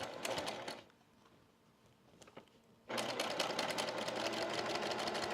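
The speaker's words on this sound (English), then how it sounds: "when you are sewing these things, slow down over these intersections" A sewing machine stitches a quilt block in fast, steady runs, stopping for a couple of seconds partway through and then starting up again. It is close and loud, and no one speaks.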